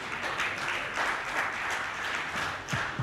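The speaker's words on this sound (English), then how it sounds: "Can you give him a round of applause," A conference audience at an African One Health and biosecurity meeting applauds to welcome Professor Hilary Beckles, a steady wash of clapping from many hands in a hall, moderately loud and unbroken, with no talking over it.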